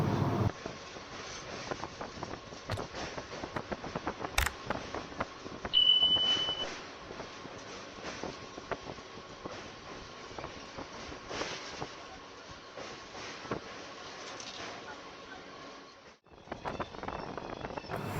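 A local passenger train on the Kharagpur line running at low speed, heard from inside as a steady rumbling rattle with wind noise and occasional knocks.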